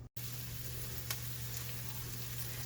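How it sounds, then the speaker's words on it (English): Ground beef browning in a pan for a simple chili crackles with a steady, close sizzle and a faint low hum underneath, after a brief silent gap at the very start. "So I'm going to get the ground beef browned up"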